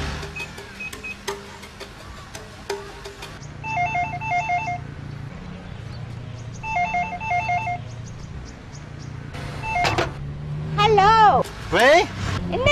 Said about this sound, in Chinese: என்ன சும்மா சும்மா போன் அடிச்சிட்டே என்ன கூப்பிட்டுட்டே இருக்கீங்க?